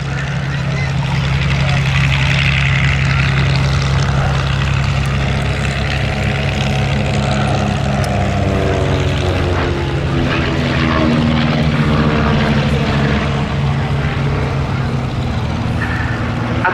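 A single-engine propeller Chipmunk trainer aircraft flies over an air show at Cosford, its steady loud engine drone continuous throughout with slowly shifting pitch as it passes, while a commentator talks over the public address.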